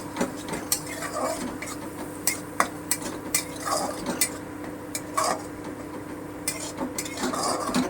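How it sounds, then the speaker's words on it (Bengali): A spoon stirs cumin paste and ginger paste in a pan for a tangra fish curry, making scattered sharp clinks and scrapes against the metal over a low background hum. "আদা বাটাটা দিলাম এক চামচ একটু নেড়ে নেব"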